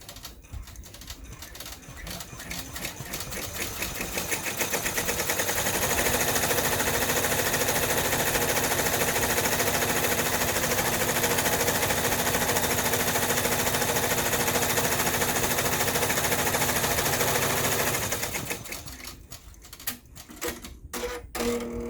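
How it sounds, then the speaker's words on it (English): An embroidery machine runs a bean stitch across a hooped zip bag, a fast steady mechanical rattle that builds up, holds for about thirteen seconds, then winds down into a few scattered clicks. "We're going to run this little bean stitch right across here."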